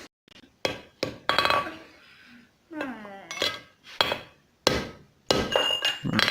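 Hammer striking a chisel to cut a hole in a railroad spike while forging a tomahawk: a series of sharp metallic clangs at irregular intervals, close and loud, with ringing tails between blows.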